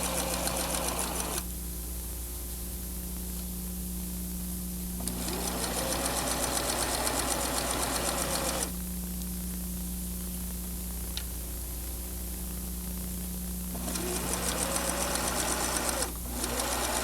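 A home sewing machine top stitches along a slacks seam with a longer stitch length, running in steady whirring bursts with short pauses between them, close and loud over a constant hum.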